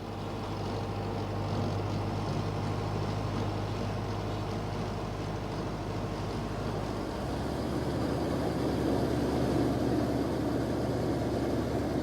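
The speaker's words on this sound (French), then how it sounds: "un tracteur à cultivateur retourne le rooibos fumant" A tractor pulling a cultivator turns over steaming rooibos tea in a field: a steady, heavy engine drone with broad rumbling noise that thickens slightly toward the end, with no talk.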